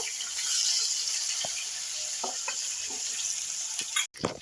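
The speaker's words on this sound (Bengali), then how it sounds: "আলু আর পেঁয়াজ ভালো করে ভেজে নেব।" Potatoes and onions fry in a pan, a steady hiss of sizzling oil with a few soft stirring knocks, close and moderately loud with no talking.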